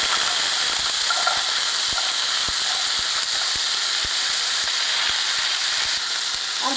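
Potatoes hiss and crackle loudly in a hot pan with curry leaves and cumin seeds, a steady sizzle broken by regular faint taps that may come from stirring.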